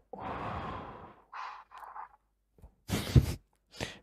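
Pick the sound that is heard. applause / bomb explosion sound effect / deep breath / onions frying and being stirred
deep breath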